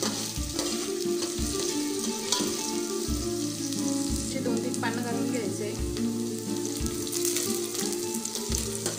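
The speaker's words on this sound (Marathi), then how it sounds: "कांदा लाल होईपर्यंत आपल्याला परतून घ्यायचं" Chopped onions sauté in hot oil in a pan with curry leaves, giving a strong, continuous sizzle with crackling spatter and regular low thuds as the pan is stirred.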